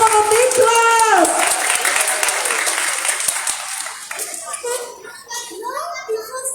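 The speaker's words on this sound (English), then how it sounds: "Let's give him a round of applause!" Audience applause at a Malaysian storytelling competition, welcoming an eight-year-old boy storyteller: dense clapping swells at first, with a voice audible early, then thins into scattered claps as talk resumes.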